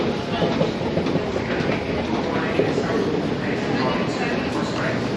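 An Elizabeth line train at the westbound platform of London Paddington, bound for Reading, gives a steady close rumble of wheels and carriages while someone talks over it.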